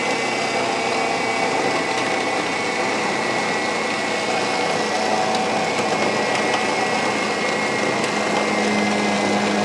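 An electric meat mincer grinds mutton into keema with a steady, loud motor whine and churning hum that runs unbroken and close throughout.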